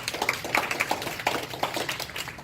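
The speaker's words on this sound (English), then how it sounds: "So please give a round of applause to" An audience at a UI/UX design panel applauding a panelist, a short burst of scattered hand claps in a room with no voices over it.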